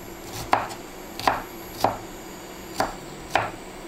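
Five evenly spaced knife chops strike a cutting board, crisp and close, with quiet background hum between them, as vegetables are cut for lentil soup.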